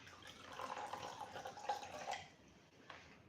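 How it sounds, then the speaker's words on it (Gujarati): Water poured into whisked curd in a kitchen to make buttermilk, a soft, steady trickling splash lasting a few seconds, fairly faint and close, with no talk. "હવે આપણે છાશ બનાવવાની છે એ દહીંને આપણે એમાં થોડુંક એવું પાણી નાખીશું"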